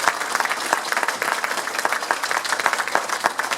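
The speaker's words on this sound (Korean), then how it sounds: "한성주 장군에게 박수 한번 크게 주십시오." An audience at a patriotic lecture in Houston claps for General Han Seong-ju, a dense and lively round of applause with distinct sharp claps throughout.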